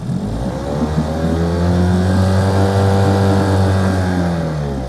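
A boat engine runs loud and steady nearby, its throttle eased up into a smooth, sustained rev with a rising then settling drone and no talking.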